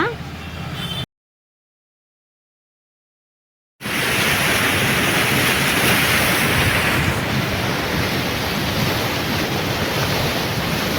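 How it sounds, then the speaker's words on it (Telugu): Steady rushing water flows near a temple's yagashala in the evening, a loud broadband wash that fills the scene after a brief silent gap at the start. "అక్కడ కూడా చూడండి వాటర్ ఎలా వస్తున్నాయో"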